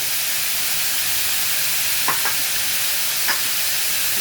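Spices stirred into food frying in a pan, with a steady sizzle underneath and a few brief scraping strokes of the spoon near the middle and toward the end.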